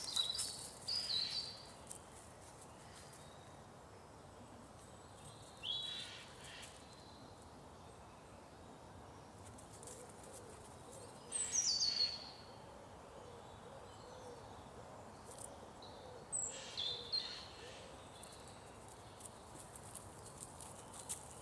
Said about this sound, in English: You can hear every sort of bird around